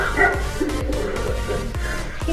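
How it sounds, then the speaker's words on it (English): Recorded dog barking played from a push-button display of a funhouse dog at a life-saving station museum, a quick series of loud, close barks and yips in a rapid rhythm, with a slightly canned, reproduced quality. "It's Bruno, the Funhouse dog. You should push this button"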